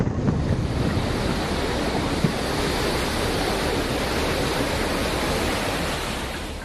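Sea waves at Dwarka, Gujarat, ahead of Cyclone Biparjoy: a continuous, loud roar of surf with wind noise, steady and unbroken throughout.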